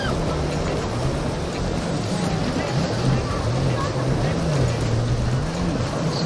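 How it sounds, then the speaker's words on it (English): A boat tossed in treacherous, rough ocean water, its engine droning with a wavering pitch beneath constant wash of surf and spray, close and steady throughout. "when he lost control of his boat in the treacherous condition of the ocean,"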